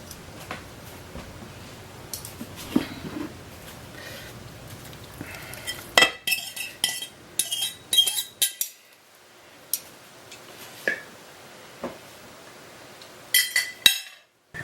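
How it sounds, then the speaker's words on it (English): Pulled pork being stirred through its cooking juices in a slow cooker, with scattered soft scraping and clinking of a utensil against the pot, louder clanks bunching together partway through, no talking. "So all I'm doing literally is just stirring it, all those good tasting juices"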